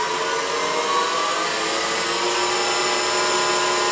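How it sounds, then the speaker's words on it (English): A 9x20 CNC lathe spindle driven by a treadmill motor runs at high speed, a steady loud whining hum with a broad hiss that holds constant and close throughout, alone without talk. "I do need to turn the spindle on, though, don't I?"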